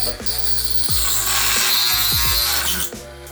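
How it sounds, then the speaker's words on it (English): A Dremel rotary tool cuts through a Montipora cap coral, giving a steady, loud high-pitched grinding whine broken by short clicks and knocks as the bit bites into the coral. "So I'm gonna Dremel it."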